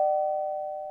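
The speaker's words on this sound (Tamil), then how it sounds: "ரொம்ப நேரமா யாரோ காலிங் பெல் அடிச்சிட்டு இருக்காங்க" A single sustained electronic doorbell tone rings steadily for under a second, clear and fairly loud with no voices over it.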